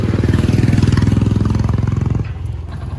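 A Hero motorcycle engine running up close, with a loud, steady low throbbing pulse that drops slightly in level near the end as the revs ease off.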